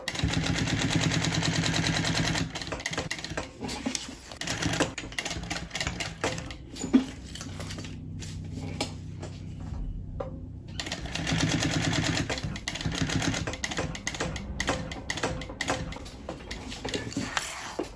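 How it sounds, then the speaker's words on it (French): A sewing machine runs a few back-and-forth reinforcing stitches at the ends of a zipper seam, a dense rapid mechanical clatter that continues steadily with a brief quieter pause midway, close and alone. "J'aime bien faire quelques points en marche arrière aux extrémités de la fermeture éclair pour renforcer la couture."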